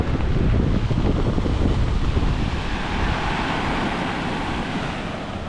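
Sea surf roaring steadily near the shore during a typhoon, a loud continuous wash of breaking waves mixed with heavy wind buffeting the microphone, with no speech.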